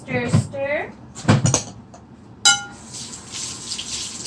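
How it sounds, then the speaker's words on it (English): A running kitchen tap pours water during hand-washing at a sink, a steady rush after a brief clunk. Speech comes first, and the water continues alone. "now I'm just going to go wash my hands while you keep stirring"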